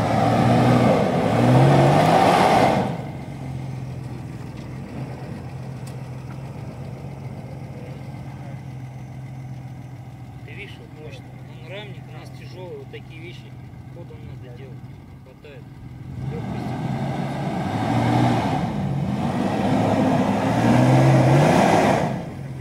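A Lada Niva engine runs steadily at a low hum, with a brief rev in the middle, while people talk loudly over it at the start and end.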